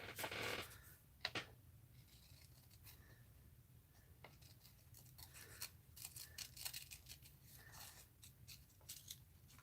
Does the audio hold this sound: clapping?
no